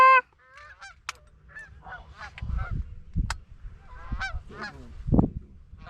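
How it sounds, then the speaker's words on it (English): Geese honking during a goose and duck hunt over decoys, a series of separate nasal honks at moderate distance, some overlapping, with low rumbling wind or movement beneath and no talk. "I have a goose to my left."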